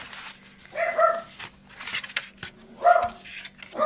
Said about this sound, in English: Excuse the doggy.